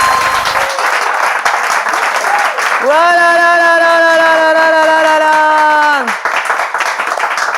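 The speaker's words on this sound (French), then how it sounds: "on peut applaudir" A studio audience at a Bible quiz show claps for a correct answer, with someone talking over it. A long sustained tone cuts through the middle of the clapping.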